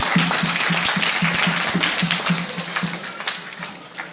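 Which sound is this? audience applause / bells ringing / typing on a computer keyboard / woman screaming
audience applause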